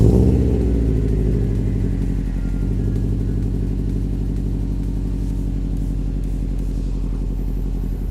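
A Subaru WRX fitted with an Invidia downpipe idles steadily at close range, a deep, even rumble with a slight clatter that holds without pause from start to finish.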